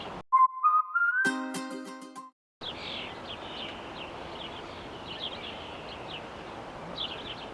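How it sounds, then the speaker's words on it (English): At Humber Bay Park on the Toronto waterfront, birds chirp faintly and repeatedly over a steady outdoor hush. A short burst of clear whistled tones comes first. "as well as many other birds that you can certainly hear"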